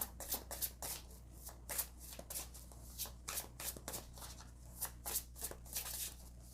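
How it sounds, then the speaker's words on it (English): Tarot cards being shuffled and pulled from a deck in a pick-a-card reading: a steady run of crisp, papery riffling flutters and slaps, close and fairly quiet, repeating in quick bursts with no talking. "I want to pull one of these other cards here"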